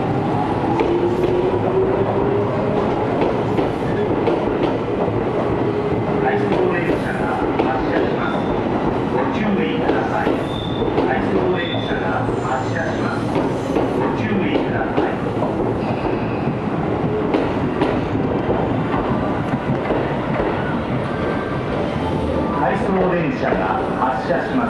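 A Tobu Urban Park Line 10030 series out-of-service train, carrying a FamilyMart advertising wrap, departs Kasukabe Station with a steady loud rumble and wheel clatter, and station announcements play over it throughout.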